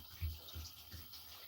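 Spring water pours from a gallon jug into a container with stag's horn sumac, a soft, steady trickle and splash close by with faint gurgles, at a low level.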